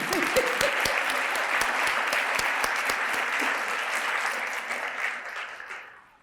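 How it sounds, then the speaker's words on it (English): A room full of people claps together for university housing and residence life staff, steady dense applause that holds for several seconds before tapering off near the end, with no talking over it. "Let's clap for them."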